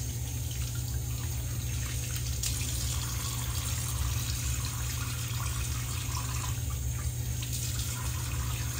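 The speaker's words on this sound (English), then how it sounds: "Let's rinse the face with some cold water and we can apply our post shave product." Cold tap water splashing and trickling over a face in a sink after a wet shave, a steady, even wash of water running close by with no talk.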